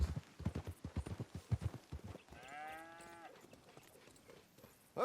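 Horse hooves clip-clop at a steady trot in Red Dead Redemption 2, followed by a whinny or low animal call, with ambient noise underneath.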